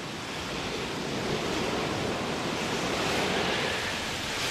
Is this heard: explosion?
no